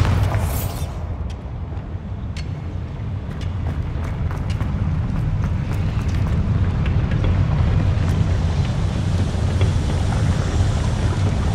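A Bombarda explosion spell goes off in Hogwarts Legacy, a sharp burst at the start that gives way to a continuous deep roaring rumble, loud and steady, with small crackles scattered through it.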